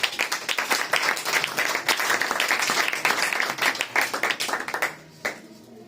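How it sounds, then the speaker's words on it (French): A church congregation claps rapidly and steadily in worship for several seconds, dense applause that thins and stops near the end. "Acclamez pour la gloire du Seigneur"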